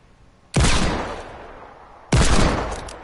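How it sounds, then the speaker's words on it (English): Two heavy hand cannon shots fire in a video game, each a sudden loud boom with a decaying tail, spaced about one and a half seconds apart with no talk. "Knocked one with the hand cannon."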